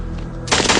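Gunfire bursts from a war film with dubbed narration, starting as a sudden loud, dense rattle halfway through after a low rumbling background.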